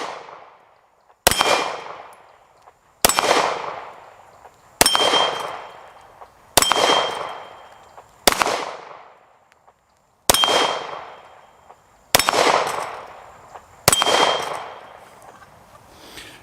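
Sig Sauer P320 M17 9mm pistol fired one-handed at steel targets, eight sharp shots spaced about two seconds apart, each followed by a ringing metallic clang that decays.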